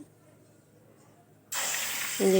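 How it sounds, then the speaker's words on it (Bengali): Beaten egg poured into hot oil in a wok: after a quiet stretch, a sudden loud hiss bursts up and keeps sizzling, and a voice briefly joins at the end. "ডিমটা আমি কড়াইতে দিয়ে দিচ্ছি"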